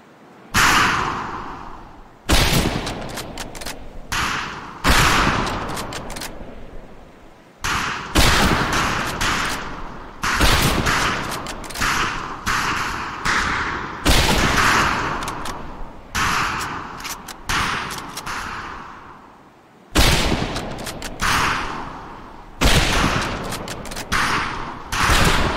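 Rifle volleys crack across a boot-camp firing range in Medal of Honor: Pacific Assault, loud repeated bursts of gunfire in clusters with brief gaps, continuing steadily.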